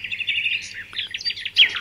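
Small birds singing outdoors, a run of bright chirps and quick trilled notes close by, one brief louder tweet near the end over a faint low background hum.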